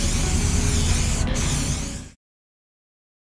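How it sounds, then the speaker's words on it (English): A steady, loud hiss of an aerosol spray can, held continuously for about two seconds before cutting off into silence. "And now let's do the spray."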